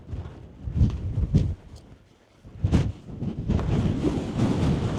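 Strong, biting wind buffets the microphone on a mountain top near Bidean nam Bian. Loud rumbling gusts come in surges, with a brief lull midway, and no voices.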